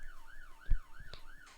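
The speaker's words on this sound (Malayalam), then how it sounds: "ആംബുലൻസ്" An ambulance siren in the Roblox video game, a wailing tone rising and falling in a steady cycle, fairly faint, with a couple of soft thumps and no talking.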